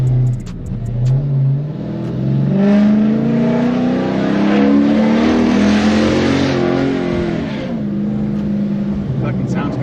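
A 2006 Cadillac accelerates hard, its engine rising and falling through loud revs for several seconds, close and powerful. A voice speaks over it, and no distinct backfire pops stand out.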